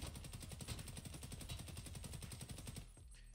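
An AKS-74U rifle in Escape From Tarkov fires a rapid automatic burst of evenly spaced shots for nearly three seconds, then cuts off; the shots are fairly quiet and there is no talk.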